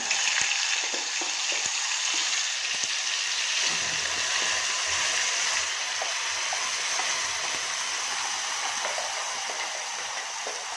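Masala paste of ground spices with bay leaf and asafoetida sizzles and crackles in hot oil for rajma curry, a steady close-up hiss with scattered pops and spatters throughout.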